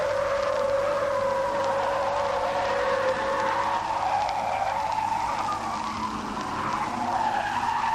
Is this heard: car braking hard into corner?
yes